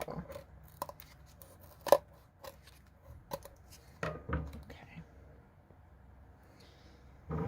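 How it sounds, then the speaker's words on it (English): Scissors trim the edges of paper for a teacup fascinator in a scatter of quiet, close snips and clicks with pauses between them, and no one speaks. "trim those edges just a little bit"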